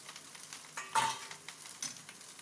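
Egg being stirred into fried rice in a hot pan, a soft sizzle with light scraping strokes and one sharper clink of a utensil against the pan, fairly quiet throughout.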